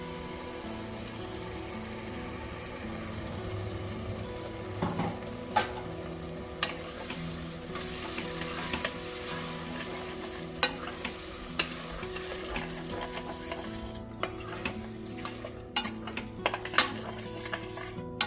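Masala frying with ginger garlic paste in a pan for a spicy country chicken curry, a continuous sizzle under repeated scraping and clinking stirs of a metal spoon against the pan, with no talking.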